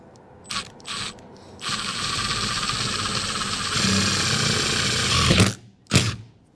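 A drill boring a starter hole through a van roof, sized to admit a jigsaw blade: a sustained loud whirring grind of about four seconds, preceded by two short bursts and followed by a brief final burst.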